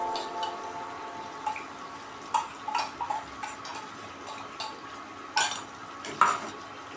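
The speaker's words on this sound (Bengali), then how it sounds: "এটা ভালো করে নাড়তে হবে, তার কারণ তলায় ধরে যেতে পারে।" Poppy seed paste being stirred in a kadai for a vegetarian soybean curry over low to medium heat: sparse, quiet scrapes and clinks of a spoon against the pan, with no talking.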